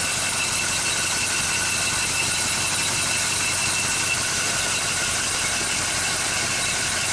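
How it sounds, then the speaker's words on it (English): A 1965 Chevrolet engine idles steadily with a constant hum and a faint belt whine running through it, close and unbroken. "A little belt noise."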